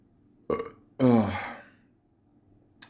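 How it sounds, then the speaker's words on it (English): A short grunt leads into a loud, drawn-out, gurgling burp close to the microphone, fading off with a brief sound at the end. "Burps like that"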